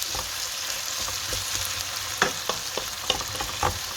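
Tomatoes sautéing in an oil pan for tomato rice, a steady broadband sizzle with a few sharper spatters and stirring scrapes, close and continuous, with no voices.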